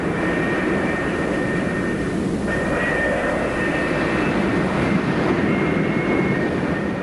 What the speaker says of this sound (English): another duo of Phantoms taxis towards the launch area